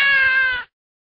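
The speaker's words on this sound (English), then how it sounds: "What sound does a cat make?" A single short cat meow, clear and close, lasting about half a second before cutting off to silence.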